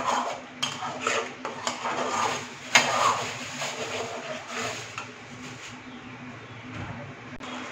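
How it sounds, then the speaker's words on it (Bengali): A spoon stirs thick chicken changezi gravy with spices in a pan, with repeated metallic scrapes and clinks against the pan at a steady rhythm, close and clear, easing off toward the end. "এই মশলাগুলো দিয়ে আমি একটু ভালোভাবে নাড়িয়ে নেব।"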